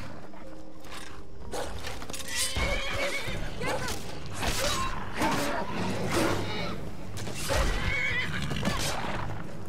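In the video game Skyrim, a horse whinnies loudly several times amid clopping hooves and rustling movement, with a few other animal cries mixed in.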